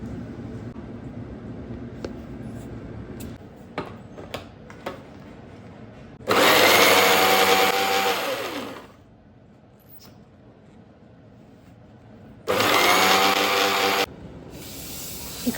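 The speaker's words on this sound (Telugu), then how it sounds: "అవి అన్నీ మిక్సీ జార్లో వేసి మిక్స్ చేస్తున్నా" A kitchen mixer grinder whirs loudly in two bursts of a few seconds each while grinding fried tomato, onion and cashew in its jar. Faint clinks and handling noises fill the gaps between the bursts.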